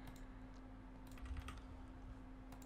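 Keys clatter on a computer keyboard as a username and password are entered at a Windows Server login, a quiet, close run of irregular clicks in short bursts, with no voices.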